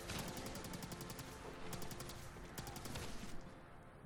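Rapid bursts of energy-weapon fire in Fallout 4's Nuka World, sharp repeated zapping shots in quick runs over a busy rumbling background, fairly faint overall, with no speech.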